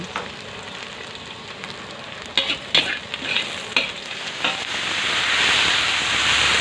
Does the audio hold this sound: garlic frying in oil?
yes